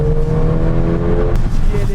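A Mercedes-AMG GLA45 hatchback with a turbocharged engine produces a loud, steady engine drone with a tonal whine, close up, briefly shifting near the end with a sharp burst.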